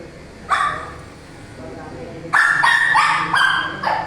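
A dog, angry during a grooming haircut, lets out a single bark, then a burst of several sharp, loud barks and yips close by, with people's voices mixed in.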